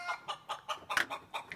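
Chickens on a farm clucking in a quick, even series of about eight short, close clucks, heard clearly with no talk over them.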